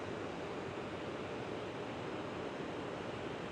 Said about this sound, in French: Alors là, vous avez cette chute, ce dénivelé d'eau magnifique.